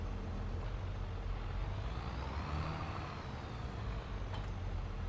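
Tractor backing up to line up with an auger's PTO, a steady low engine drone with slight swells, close and continuous with no talk.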